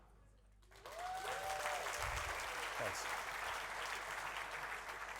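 Conference audience bursts into sustained, dense applause that fills the room after a quiet start, with a brief spoken thanks heard near the end.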